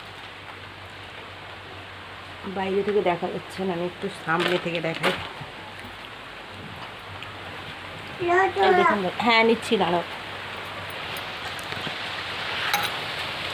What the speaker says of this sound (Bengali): এইখানে ঝমঝম করে বৃষ্টি শুরু হয়ে গেছে